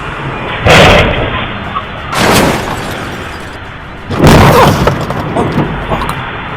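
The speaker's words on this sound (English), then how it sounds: "a driver hit a power pole, causing several electrical explosions" Three loud, crackling bursts, each lasting about half a second to a second, separated by quieter rumbling background noise: electrical explosions at a power pole struck by a car.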